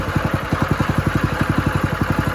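A NASKART go-kart engine running close and loud, with a fast, even putter of regular firing pulses and no voices over it.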